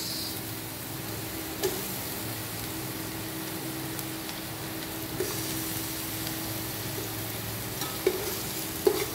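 Onions frying in a pan with garlic and ginger, giving a steady close sizzle throughout, broken by a few faint clicks and taps of stirring.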